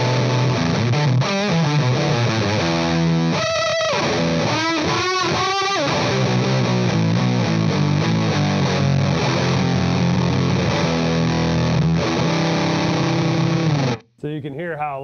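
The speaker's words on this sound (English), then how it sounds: "when I use my Creepy Fingers fuzz, then it kind of pokes through a little bit more and you get some more note clarity" Electric guitar through a Creepy Fingers fuzz pedal, thick saturated chords and a run of single notes, loud and dense, cutting off abruptly near the end.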